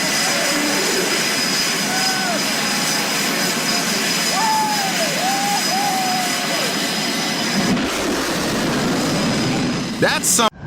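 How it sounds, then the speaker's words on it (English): Loud, steady jet engine roar fills the scene as planes pass close to the crowd at an Australian air show, a pass swelling and fading; voices are faintly audible beneath. "At Australia's air shows, planes zoom past the crowd so close"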